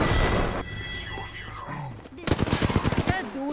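Gunfire in the battle royale game Apex Legends, a rapid burst of shots landing under excited voices talking over the action.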